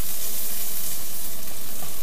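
Ground meat with tomato fries in a pan, giving a dense, loud, continuous sizzle with crackling and stirring and no talk over it.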